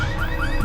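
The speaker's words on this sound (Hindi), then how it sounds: "वो गाड़ी का अलार्म बज रहा है।" A green Volkswagen car alarm blares loud and close, a steady electronic siren with rising sweeping tones and no voices over it.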